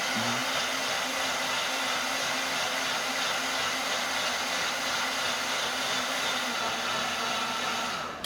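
A blender grinds beets with a continuous loud whirring roar that holds steady, then cuts off at the very end.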